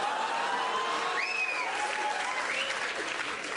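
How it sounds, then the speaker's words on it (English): Comedy club audience applauding, a loud, dense, steady roar of clapping lasting several seconds with a few whoops and whistles rising above it. "That was a round of applause from the French-Canadian women that will do fucking everything."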